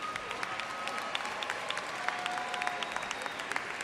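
Graduates at a university fall commencement ceremony applaud their parents, families and friends, a steady wash of many hands clapping in a large hall, moderately loud and sustained, with a few sharper individual claps standing out.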